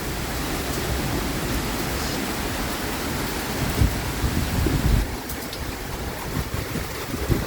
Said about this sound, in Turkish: şu anda baya yağmur içeriye geldi arkadaşlar